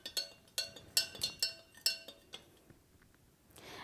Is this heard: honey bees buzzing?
no